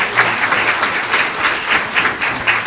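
A school board meeting audience applauds visual arts students: steady, dense clapping from a crowd, pulsing slightly in waves, with no voices over it.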